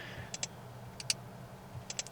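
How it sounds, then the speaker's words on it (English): Soft, crisp clicks from touchscreen button presses in a 2023 Honda Accord Sport Hybrid, coming in quick pairs with a brief pause between them against a faint low cabin hum. "I also particularly like the satisfying clicking sound that you get with every single button press"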